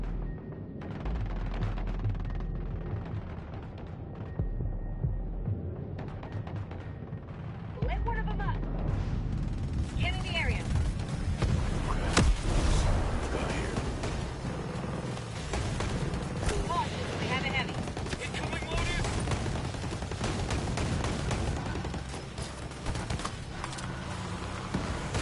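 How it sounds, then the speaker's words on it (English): Video game battle with mortars incoming and gunfire, dense continuous bursts of shots and explosions throughout, with voices speaking over the combat. "Heads up, mortars incoming."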